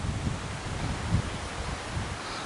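Wind gusting through trees outdoors, a steady broad rushing roar with leafy rustle, swelling slightly in gusts throughout, close to the microphone and with no talking.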